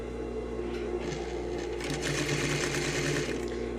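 A sewing machine runs steadily while stitching the seam joining a tailored sleeve to the bodice, a close, continuous rapid mechanical whir and needle clatter with no talking.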